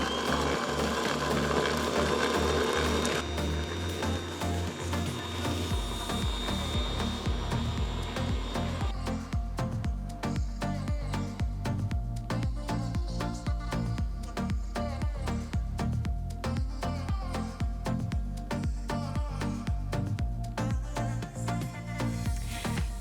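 Ankarsrum Assistent Origin stand mixer whisking egg and sugar at medium speed, a steady close mechanical whir with rhythmic clatter that shifts pitch early on as the speed rises, running alone throughout.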